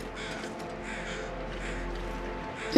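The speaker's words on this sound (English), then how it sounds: "I'm just trying to see what the crows are up to." Crows cawing in The Long Dark survival game around Bleak Inlet, steady overlapping calls over a constant ambient game wind bed, moderately loud throughout with no talking.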